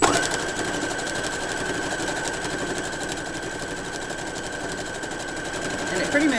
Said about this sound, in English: this is just machine quilting